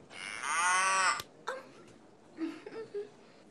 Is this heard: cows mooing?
yes